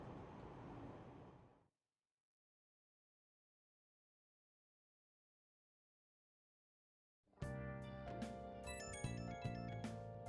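A phone in the Persona 5 video game rings with incoming messages, a bright, tonal melodic chime sequence starting loud after several seconds of silence, preceded by a brief burst of game noise.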